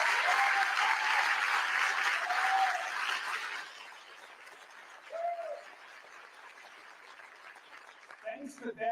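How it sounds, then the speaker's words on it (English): A State of the City audience applauds the city's snow team, loud and sustained clapping with a few whoops that fades after several seconds into quieter room sound and brief talk. "Let's have a round of applause for all of them"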